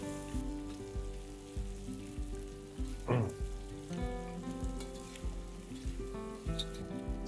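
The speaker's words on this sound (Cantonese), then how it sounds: "係煎到佢先，煎到佢好似焦焦地咧" Choy sum is stir-fried with pork lard in a wok over high heat, giving a soft, continuous sizzle broken by regular spatula scrapes and clanks, with one brief louder hissing burst.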